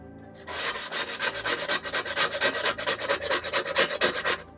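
Baked-on grease is scraped off an air fryer in quick, loud, rhythmic strokes, a rough rasping rub repeated steadily throughout with no voices.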